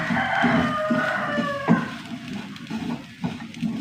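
A chicken clucks and crows close by in a series of short, harmonic calls with brief pauses between them, set against low background noise.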